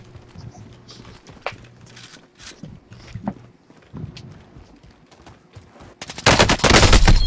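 Gunfire in Call of Duty: Modern Warfare 2019, starting with scattered single shots and footstep-like thuds, then breaking into a loud, dense burst of rapid fire near the end.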